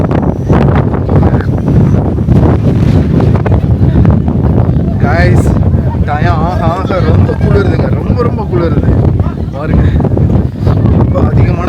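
Heavy wind buffeting the microphone with a constant low rumble, while people talk throughout.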